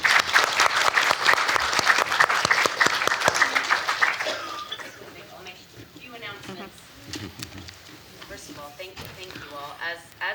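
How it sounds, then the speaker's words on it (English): An audience applauds the panelists at the close of a discussion on collecting and caring for Hmong art; loud, dense clapping lasts about four seconds, then fades as a voice begins speaking. "let us give our panelists a round of applause for this conversation"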